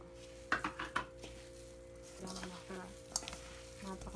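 A cassava and sugar mixture for suman is stirred in a metal bowl, soft scraping and clinks of the utensil against the container in short bursts, faint and close with a low background hum.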